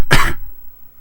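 A single sharp cough, close and loud, bursts out and fades within half a second, leaving quiet room tone behind.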